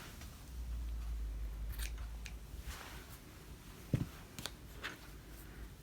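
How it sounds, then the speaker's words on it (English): Scissors snip through quilt batting scraps in a few quiet cuts over a low background rumble. "you could also do this and just cut it with your scissors"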